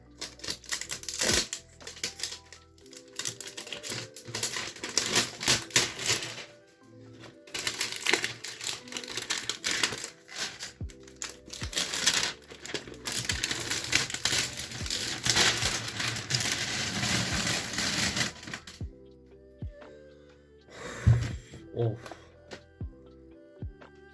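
Crinkly plastic and cardboard packaging crackles and rustles as a Naruto manga box set is opened, with bursts of crumpling and tearing, brief pauses and a few sharp handling knocks.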